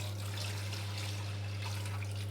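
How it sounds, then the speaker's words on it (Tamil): Rice soaking in water for idli batter is rinsed by hand, producing a continuous close sloshing and trickling of water with a steady low hum in the background. "நல்ல அரிசியில் கழுவி ஊற வைக்க போகிறோம்"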